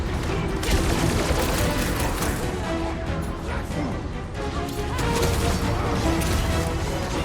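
Dense, continuous gunfire and impacts from a combat fight in the video game Marvel's Guardians of the Galaxy, loud and relentless bursts with crashing effects throughout.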